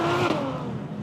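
A Ferrari 812 Superfast, an 800 hp supercar, roars with a loud, sustained engine note that shifts in pitch as it revs, heard close and alone for about a second.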